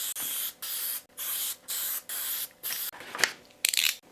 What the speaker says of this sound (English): I'm going to use some Elmer's spray adhesive just to tack it on there